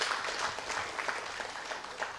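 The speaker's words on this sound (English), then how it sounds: "Clap for them, please." Audience applause for delegates from the states at a development forum, a steady, dense wash of clapping that holds through the moment without a break.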